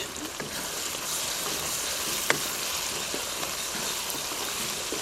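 Masala gravy with slit green chillies frying for chicken karahi, a steady close sizzle and bubbling with a brief clink of a spoon partway through.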